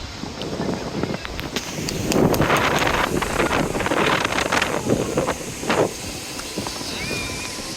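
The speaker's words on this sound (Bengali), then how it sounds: "সারা দেশে অসংখ্য পর্যটক এখন কুয়াকাটা সাগর তীরে সমুদ্রের ঢেউ," Wind sweeps across the sea shore at Kuakata beach, a loud, steady rush buffeting the microphone with broad surges that may carry the wash of waves, continuing throughout.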